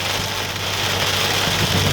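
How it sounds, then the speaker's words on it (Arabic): Heavy rain falls steadily at a roundabout on a road in Oman, a dense even hiss with a low engine hum underneath and no voices. "يفيدكم امطار غزيرة عند دوار القسارة طريق قيرمات العارة"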